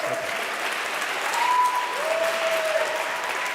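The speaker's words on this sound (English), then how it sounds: "I'll wait for the applause." Audience applause at a televised debate on the Gaza war fills the room, a steady, dense wash of clapping from a large crowd held at an even level throughout, with a faint tone whistling through the middle.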